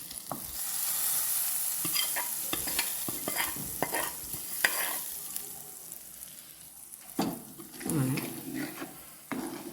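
Chili-powder tempering goes into a ripe mango puliseri, a faint sizzle running under repeated scraping and clinking of a spoon stirring in the pan, with a few louder knocks near the end.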